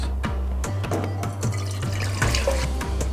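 Water runs steadily into a pot, with a low rumbling fill and a series of light clinks and knocks from the container throughout.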